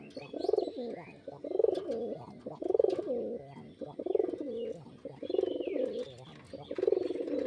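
A pigeon or dove coos over and over in soft, rounded phrases at a fairly steady pace, heard at close range with faint chirps in the background.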